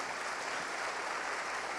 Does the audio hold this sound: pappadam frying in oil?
no